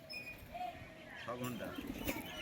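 Pigeons kept at a home loft coo faintly in short low calls beneath background chatter and ambient noise.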